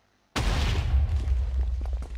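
A C4 bomb detonates in Minecraft: after a brief silence, one loud, sudden blast breaks in and trails into a rumbling, crackling decay lasting about two seconds.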